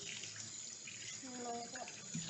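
A kitchen tap runs in a steady hiss and splash as hands are washed at the sink during Jamaican Christmas dinner cooking, with a voice faintly audible underneath.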